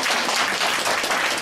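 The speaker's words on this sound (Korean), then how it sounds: "우리 하나님께 영광의 박수를 올려드리겠습니다" A church congregation gives a steady burst of applause, a dense wash of many hands clapping at once that stays even and full throughout, with no voices rising above it.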